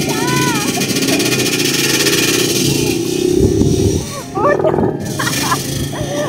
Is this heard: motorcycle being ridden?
yes